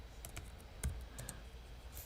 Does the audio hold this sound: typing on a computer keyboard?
yes